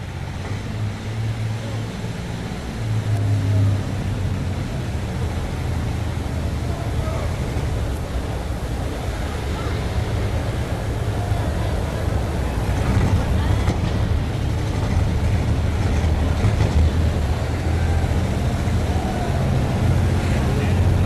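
A John Deere tractor fires up at a 1993 National Farm Machinery Show tractor pull, producing a continuous low engine rumble that builds as RPMs rise, heard amid arena ambience with an announcer talking throughout.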